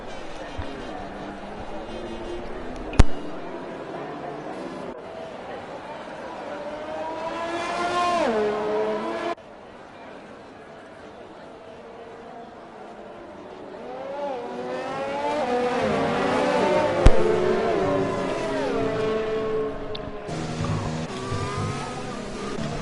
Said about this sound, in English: The safety car, and it is a Mercedes safety car